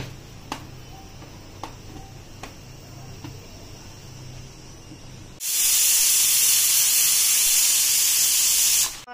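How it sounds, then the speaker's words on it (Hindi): A pressure cooker full of mutton stew on full flame blasts a loud, steady hiss of escaping steam for several seconds, after a stretch of faint kitchen ticks and clicks. "कुकर की लिड लगाने के बाद हमें इसे 4 प्रेशर आने तक अच्छे से पकाना है"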